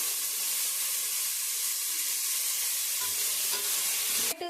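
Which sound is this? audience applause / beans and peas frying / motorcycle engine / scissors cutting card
beans and peas frying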